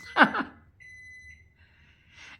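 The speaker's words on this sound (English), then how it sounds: "oh, that's my microwave beeping" A short sigh, then a thin microwave beep holds steadily before fading into quieter tones in an otherwise quiet room.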